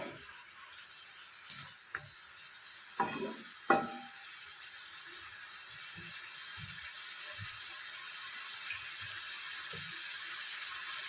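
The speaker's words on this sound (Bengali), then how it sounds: "মাছের মাথাটা আমার কষা হয়ে গেছে এবার ডালটা ঢেলে দেবো এর মধ্যে" Moong dal is poured into a pan where a rohu fish head is frying, making a few soft splashing clatters followed by a faint, steady sizzle.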